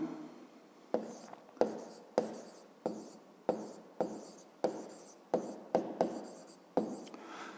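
A pen or pencil writes numbers on paper in about a dozen short, scratchy bursts, each with a quick attack, recorded close up with no talking.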